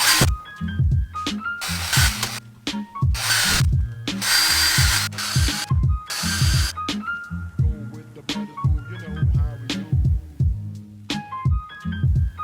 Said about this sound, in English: Now you can start drilling.